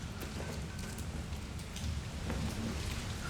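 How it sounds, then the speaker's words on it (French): Steady rain pours down in the survival horror game Resident Evil Requiem, a dense, even hiss of drops on surfaces with no pause across the whole stretch. "La pluie qui tombe."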